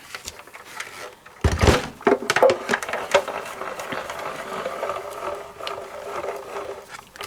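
A Tonic Studios Tangerine die cutting machine feeds a rubber embossing mat through its rollers, producing a burst of loud ratcheting clunks followed by a steady, quieter mechanical grinding up close.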